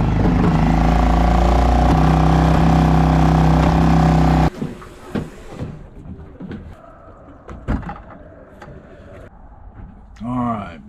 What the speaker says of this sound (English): The engine's purring in terms of it's not spluttering, but now there's something new going on.